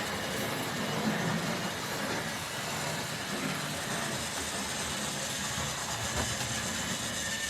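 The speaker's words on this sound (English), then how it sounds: "We'll see if we can get a nice look at the freight train as it comes around once more" A steady, continuous rumble of a freight train rolling along the track, with broadband rail noise holding constant throughout.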